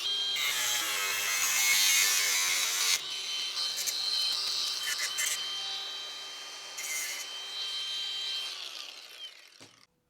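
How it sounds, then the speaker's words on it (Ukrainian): A large angle grinder cuts metal at a 45-degree angle with a loud, continuous high-pitched whine. It holds steady for several seconds, then winds down and trails off at the end. "Зараз беремо УШМ побільше і відрізаємо."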